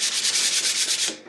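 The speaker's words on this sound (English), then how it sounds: "you're sanding through your layers of your epoxy" Steady rhythmic sanding of epoxy pore filler on a guitar's wooden surface, a close, even scratchy rubbing that pulses with each back-and-forth stroke and carries no talk.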